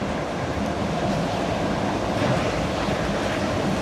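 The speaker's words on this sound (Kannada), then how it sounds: "ಏನಕ್ಕೆ ನೀರು ಹಾಕ್ತಾ ಇದ್ದಾರೆ?" Water poured steadily over a large block of ice weighing about 100 kg, giving a loud, continuous rushing splash with no voices.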